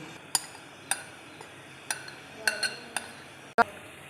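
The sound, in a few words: lid placed on cooking pot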